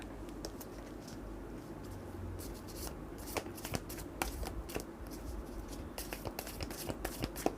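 A deck of fortune-telling cards is shuffled by hand for a Leo horoscope reading, giving a steady papery riffle with sharper card snaps that grow denser toward the end, heard alone and close.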